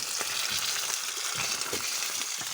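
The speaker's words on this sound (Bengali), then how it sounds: "তো এবার শুরু হয়ে গেছে আমাদের মাছ ভাজা," Four fish fry in a small pan outdoors by a river, a loud continuous sizzle with faint spattering pops throughout.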